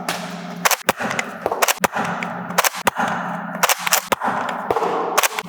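Nerf N-Series Pin Point blaster fired from the hip at targets: a run of sharp, close snapping shots at uneven intervals, with no talk.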